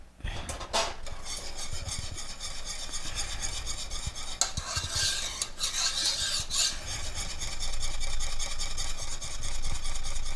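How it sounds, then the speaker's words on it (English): A spoon stirs thickening chocolate pie filling in a pot, with steady scraping and rubbing strokes that continue without pause, close and fairly loud with no talk. "You want to keep stirring it constantly."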